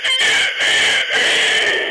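A man mimics a rooster crowing, a loud, close, sustained cock-a-doodle-doo broken by two brief breaths, delivered alone without other voices.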